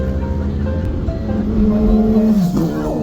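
A motorcycle passes on a road near Nasugbu, Batangas, its engine tone rising and then dropping as it goes by, heard over the steady rumble of the vehicle carrying the listener.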